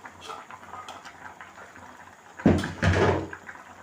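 A soft, wet mass of okra soup ingredients is tipped into a pot, landing with a loud sloppy splat and a second slushy pour, after faint scraping and clinks.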